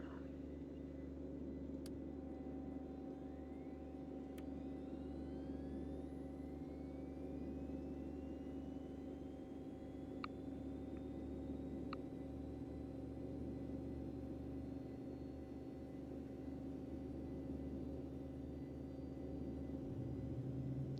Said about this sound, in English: Engine start, switch on.